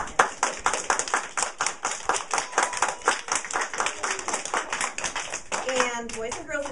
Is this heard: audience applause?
yes